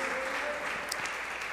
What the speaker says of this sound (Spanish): Dele palmas al Rey de Reyes y Señor de Señores.